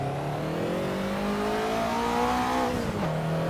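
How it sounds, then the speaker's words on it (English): A Ferrari 288 GTO in the Assetto Corsa racing game on the Spa circuit, its engine held at high revs in a steady loud drone, with a brief dip near the end, without any talk. "overrev the engine again. Stupid tall ratios."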